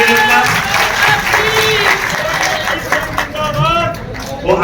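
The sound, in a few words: applause welcoming a Lok Sabha candidate at a rally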